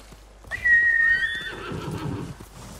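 A horse in Ghost of Tsushima lets out one loud, high whinny lasting about a second, followed by a short patter of hoofbeats and snorting.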